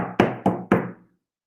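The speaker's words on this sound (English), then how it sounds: "When all of a sudden they heard a knock on the door." Three firm knocks on a wooden door, evenly spaced and close, each with a short hollow resonance, then silence.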